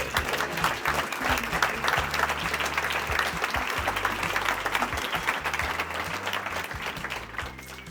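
Sustained applause from a large audience, dense steady clapping that continues throughout and eases slightly at the end.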